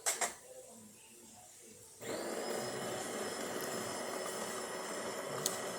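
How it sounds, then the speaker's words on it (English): Newly replaced grinder in a DeLonghi PrimaDonna coffee machine grinding coffee: after a short click and a quiet pause, a loud, steady whirring grind starts and runs on to the end. "You can hear the new grinder working and grinding coffee."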